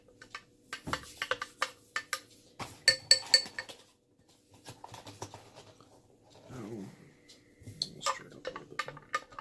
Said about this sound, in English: Stir it up a little bit more.